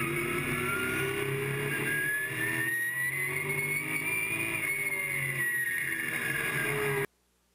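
Race cars lap Angola Motorsport Speedway during the Al Cook Memorial 88, engines droning and rising in pitch as they pass, a sustained roar from several cars at mid distance that cuts off abruptly.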